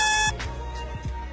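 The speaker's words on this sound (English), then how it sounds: "car alarm system" A car alarm system emitting a loud, sustained electronic beep that cuts off abruptly, followed by a few softer low tones.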